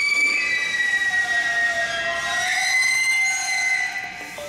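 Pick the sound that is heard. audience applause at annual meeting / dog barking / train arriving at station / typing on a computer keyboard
train arriving at station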